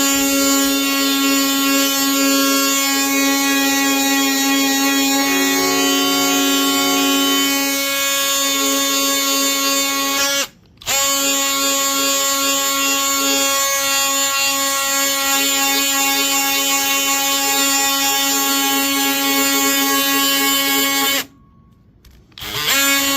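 A power sander works over a wooden entryway table, removing saw burn marks. It gives a loud, steady, whining hum that cuts out briefly twice, with no talk.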